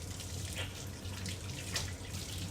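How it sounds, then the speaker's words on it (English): Tap water runs steadily over hands being washed at a kitchen sink, a continuous close splashing hiss with slight shifts as the hands move, no voices. "So just give my hands a wash."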